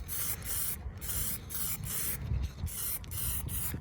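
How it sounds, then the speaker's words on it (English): Clear coat lacquer sprayed onto a car headlight of a Citroen C1, Toyota Aygo or Peugeot 107, a steady close hissing broken by short pauses between passes. "I'm going to keep on applying the lacquer until it looks worse"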